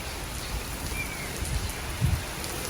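Rain falling steadily outdoors during a heavy downpour, a soft continuous hiss with a few faint low thumps, heard alone at a moderate distance.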